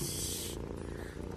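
A big cat purrs in the Townsmen VR video game, a close, rumbling rhythmic purr that keeps pulsing after a brief bright hiss at the start fades away.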